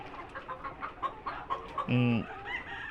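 A Tiger-breed chicken clucks and squawks loudly near the end on a poultry farm, following a stretch of soft background noise and faint clucking.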